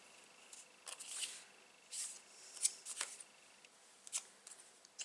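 Scissors trimming a small overhang off a card for a mini album, several soft, quiet snips and light paper rustles spaced over a few seconds in a calm room.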